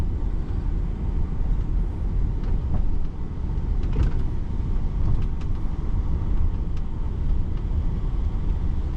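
Cars crawling through a flooded road with standing water, heard as a steady, close engine and road rumble that continues without a break and has no speech over it.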